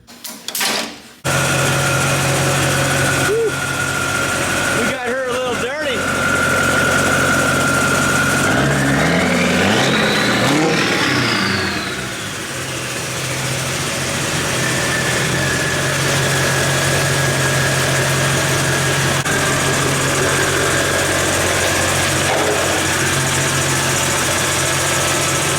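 A Duramax diesel truck engine running on a dyno, a loud, sustained roar that climbs steeply in pitch around the middle, then drops back and holds a high, droning run.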